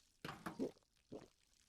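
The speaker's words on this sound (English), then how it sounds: "Drink some water." Drinking water in the Drive Beyond Horizons driving game: a few quick gulping, liquid-pouring sounds in two short bursts, close and fairly quiet, with no talking.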